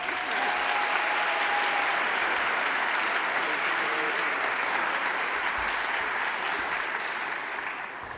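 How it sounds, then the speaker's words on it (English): A round of applause from the audience at a 2018 State of the University Address, broad and even clapping that carries on uniformly and fades slightly at the close. "let's still give her a round of applause"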